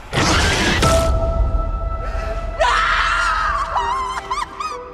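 A woman's gut-curdling scream from a horror TV series scene, loud and close, followed by eerie sustained tones and warbling effects.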